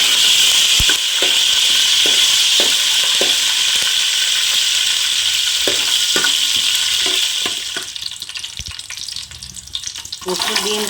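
Oil heats in a pan before beans curry is cooked, sizzling in a continuous loud crackle, with scattered clinks and stirring knocks that ease off toward the end.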